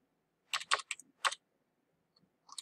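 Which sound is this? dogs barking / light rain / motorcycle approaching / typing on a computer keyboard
typing on a computer keyboard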